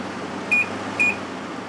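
A Samsung 6300 BTU window air conditioner hums steadily on its medium fan setting, with two short electronic beeps from its controls spaced about half a second apart.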